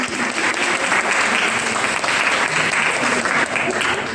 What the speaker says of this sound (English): Please give a big round of applause for section C.